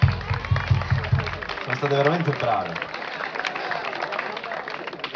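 Audience applause at a live outdoor music concert, a dense wash of clapping under someone speaking over a microphone, with a short musical note sounding partway through.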